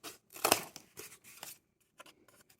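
Scissors snip through cardboard in a few quick, crisp cuts followed by fainter scraping and rustling, fairly close and quiet with no talking.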